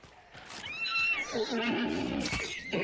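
A horse in a video game neighs loudly, a long whinny that rises and then falls in a wavering pitch, close by and heard alone.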